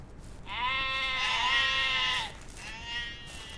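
A sheep in the ranch video game Ranch Simulator lets out one long wavering bleat, then a shorter fainter one, close by and with no speech.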